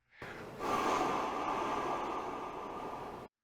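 Breathy rush of air blown through a saxophone with no note sounding, a steady airy hiss that swells after a short onset and holds for about three seconds before cutting off.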